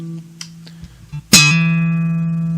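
After a few faint taps and muted notes, a bass guitar played through both pickups and an effects chain rings out with one bright, sharp note that sustains and slowly fades, set up for an 80s-style tone.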